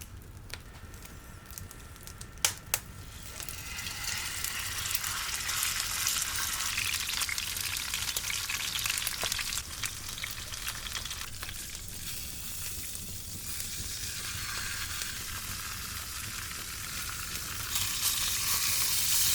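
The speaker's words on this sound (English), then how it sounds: "In a hot cast iron pan, we sear the meat on both sides." Ossobuco meat searing in a hot cast iron pan outdoors, a steady close sizzle and fry crackle running throughout with a few brief clicks, no talking.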